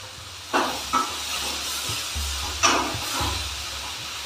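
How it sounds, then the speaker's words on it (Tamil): Paniyaram batter is poured into a hot kuzhi paniyaram pan, setting off several soft sizzling hisses over a low background hum, each burst brief and close. "இனிமேல் இதை குழி பணியார சட்டியில் ஊற்ற வேண்டியது தான்."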